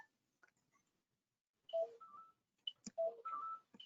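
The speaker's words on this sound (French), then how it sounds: "j'ai un téléphone qui sonne" A phone rings with short electronic melodic tones in two brief bursts separated by a pause, faint and with no voices over it.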